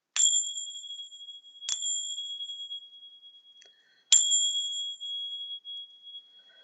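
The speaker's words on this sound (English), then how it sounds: "I have my tincture bells." Tingsha-style tincture bells struck three times, each ring a bright, piercing metallic ping that sustains and fades slowly, near and loud against near silence.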